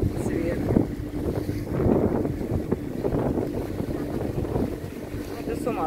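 A boat motor drones steadily on the water off a beach at Watamu, Kenya, mixed with gusty wind noise on the microphone and a voice speaking over it.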